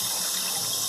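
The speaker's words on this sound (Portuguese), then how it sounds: "aí a torneira faz aquele barulho que enche o saco, né?" Water tap being slowly closed while running at full flow, giving a steady broadband rushing hiss of water with a faint vibrating quality, constant and close throughout.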